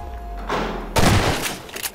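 Gunfire in Garry's Mod blasting at breakable doors: a burst of loud shots around the middle, then a heavier impact crash followed by rattling, booming aftershocks.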